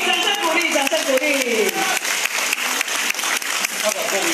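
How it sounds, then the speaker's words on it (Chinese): Dense applause from the audience at a dentists' support rally for Han Kuo-yu, steady and loud throughout, with a voice talking over it in the first second or two. "掌声鼓励，掌声鼓励，掌声鼓励。"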